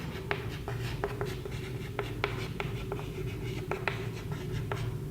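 A pen scratches and taps out physics notes on fluid mechanics, with a quiet run of short, irregular strokes close by in a still room.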